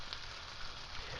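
A bacon, beef and egg frittata frying in a pan, giving a faint, steady sizzle with an even hiss and no voices over it.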